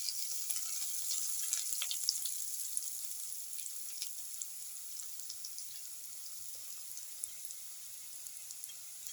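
Cumin seeds frying in hot oil, a thin crackling sizzle with scattered sharp pops, steady and close throughout, with no talking.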